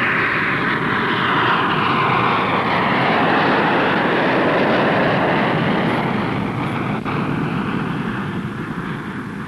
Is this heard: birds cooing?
no